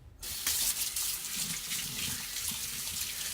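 Rice being washed under a running kitchen tap, a steady loud stream of water splashing into the pot after a brief quiet start, with faint stirring underneath.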